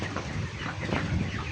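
A flock of 27-day-old broiler chickens on a poultry farm makes a dense, continuous murmur of clucks and low calls that fills the whole brief moment, heard close and fairly loud.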